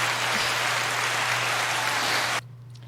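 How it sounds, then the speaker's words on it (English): Dense, steady applause from an audience at a podcast taping, loud and continuous for over two seconds before cutting off abruptly, with a low electrical hum underneath. "Because that definitely deserves a round of applause."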